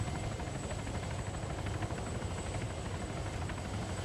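A steady helicopter rotor in the video game Arma 3 whirs and thrums continuously, loud and close, with no voices over it.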